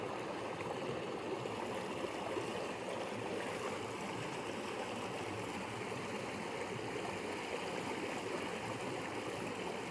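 A stream flows steadily at the Devil's Altar in Scotland, a soft, continuous rushing and trickling of water heard from close by, with no voices.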